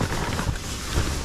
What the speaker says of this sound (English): I definitely hear the wind outside.